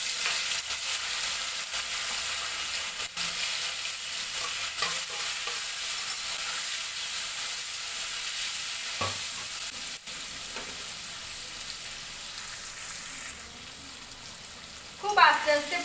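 Paneer pieces fry slowly in hot oil in a kadai, giving a steady, fairly loud sizzle with occasional utensil stirring taps, and a brief clatter right at the end.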